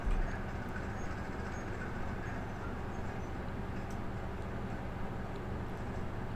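Train rolling over a railway switch, a steady loud rumble of wheels and car bodies with low mechanical clatter, continuous and close, no voices.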